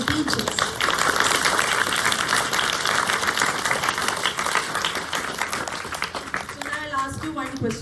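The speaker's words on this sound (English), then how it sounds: "give them a big round of applause to all the students as well as the teachers" Applause for students and teachers at a Kendriya Vidyalaya school program in Thalassery, a steady crowd of clapping that continues throughout, with voices heard underneath it and other noise near the end.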